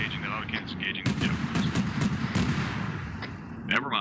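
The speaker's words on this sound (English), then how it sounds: "That auto cannon's engaging" Autocannon fire in a military video game, a string of sharp loud bursts over roughly three seconds, with rapid shots punctuating continuous background noise and game sounds.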